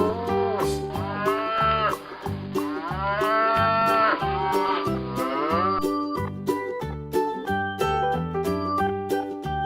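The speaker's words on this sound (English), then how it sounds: "Cow." A cow lows in a farm-animal sound sequence for children, several drawn-out moos over a steady, loud backing of rhythmic music with no talk.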